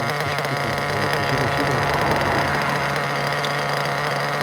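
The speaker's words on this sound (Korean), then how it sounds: "낮은 RPM부터 시작을 해야 되니까 아이들링을 유지하는 거예요" A small RC car engine idles at low RPM during break-in, with a constant buzzing drone and a strong low hum, holding an even pitch throughout with no voices.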